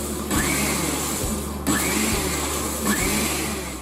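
A blender whirs loudly at close range as egg yolk is mixed into Caesar salad dressing, its motor droning steadily with brief pulses and dips roughly every one to one and a half seconds.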